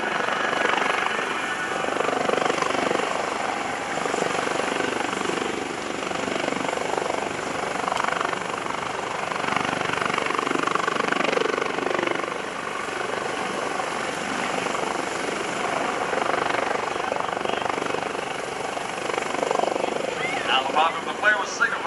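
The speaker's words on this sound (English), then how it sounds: "The flare was signaled for the helicopter to come back and hoist the rescue member back on board with his distress personnel with him." A US Coast Guard rescue helicopter hovers during a search-and-rescue demonstration at an airshow, its steady, loud rotor roar filling the scene while an announcer talks over it.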